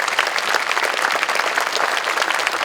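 An audience at the 2023 MEC Annual Meeting claps, a dense, steady burst of applause from many hands filling the whole moment.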